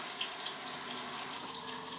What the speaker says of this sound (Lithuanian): įpilame vandens.